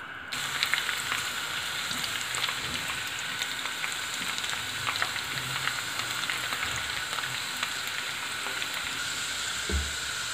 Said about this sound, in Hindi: ये ऑयल ले लिया है एक फ्राई पैन और ये चली गई जी प्याज